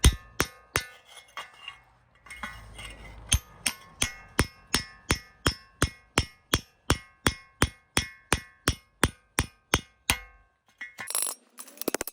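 Repeated hammer blows knocking out the internals of a Nissan Almera exhaust pipe, a long run of sharp clanging strikes at a steady fast pace, close up, ending with a scraping rattle.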